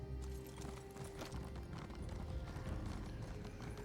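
Hooves clip-clop steadily as a horse trots in The Elder Scrolls Online, a continuous close rhythmic clatter at a moderate level with game ambience beneath.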